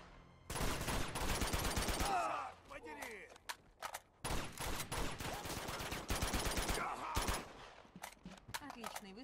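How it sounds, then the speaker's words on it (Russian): Gunfire in the video game Uncharted 2: Among Thieves, with rapid bursts of automatic shots in dense clusters broken by short pauses and scattered single shots, loud and sharp. "Отличный выстрел для журналистки."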